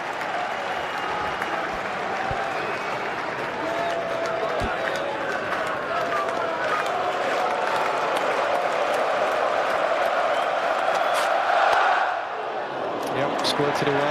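Cricket crowd at Lord's during an Ashes Test, a dense, steady roar of cheering and clapping that swells toward the end before briefly dropping away.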